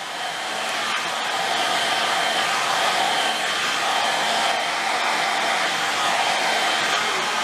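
A hair dryer blow-dries hair close by, giving a loud, steady whooshing roar that runs unbroken for the whole stretch, with no talking.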